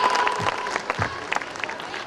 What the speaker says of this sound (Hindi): एक बार जोरदार तालियां रितिका के लिए।